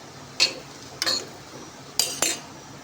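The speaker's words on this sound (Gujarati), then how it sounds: "ફટાફટ હલાવી લેશું આપણે." A metal spoon clinks against a pan while stirring sugar, Kashmiri chili powder and coriander-cumin powder, giving four sharp separate scrapes and taps at close range in a quiet kitchen.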